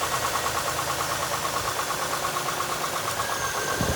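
A 1999 Pontiac Grand Am engine idles steadily with a low rumble, joined near the end by a rising whoosh as the electric radiator cooling fans kick on.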